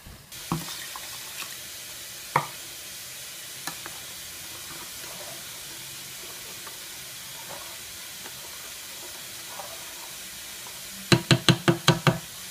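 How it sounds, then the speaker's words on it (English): Extra water splashes softly into a pot of rice while cooking, a low continuous watery hiss with occasional knocks. It ends in a quick run of five sharp clinks or taps. "And I'm going to add more water to this"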